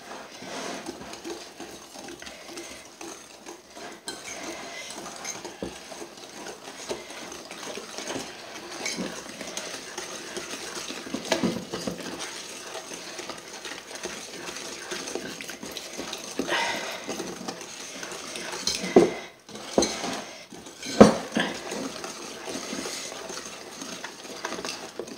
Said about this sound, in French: Et maintenant, on remue de façon d'avoir une jolie pâte homogène.